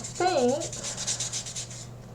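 Rhythmic back-and-forth sanding strokes on the head cap of a Master Sword, close and fairly quiet, with a short vocal sound at the start over a low steady hum.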